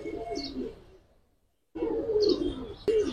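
Giribaj pigeons, silver and coloured birds in a loft, coo and chirp in low rolling calls close by, with a brief near-silent gap before the cooing resumes.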